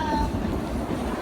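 The Silver Dollar City excursion train in Branson, Missouri rumbles steadily along its rails, a loud continuous low clatter from on board with no talk.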